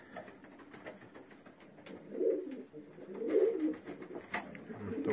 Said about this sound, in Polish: To będą wszystkie gołębie u niego z różnych połączeń